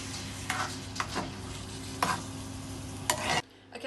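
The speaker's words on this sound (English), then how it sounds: "you can then use your jar of sauce. Okay, pop that in and give it a good mix up" Jarred pasta sauce is stirred into browned mince in a pan, with a wet scraping stir and gentle sizzle repeating in short strokes, close and steady, cutting off abruptly near the end.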